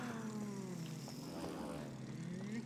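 A propeller plane in It Takes Two drones steadily throughout, a continuous close engine hum with a slight pitch wobble and no talk.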